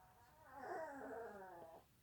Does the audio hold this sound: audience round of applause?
no